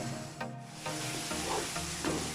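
Fenugreek and mixed vegetables roasting in a pan, a soft continuous sizzle broken by a few stirring scrapes, close but fairly quiet, with no voices.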